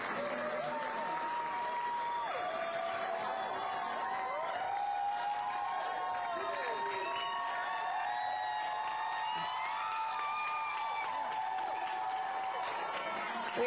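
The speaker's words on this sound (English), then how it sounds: "to tremendous applause" Applause and cheering fill the Tennessee House chamber as Rep. Justin Jones re-enters, a steady roar of clapping with whoops and shouts rising from the crowd, held at moderate distance throughout.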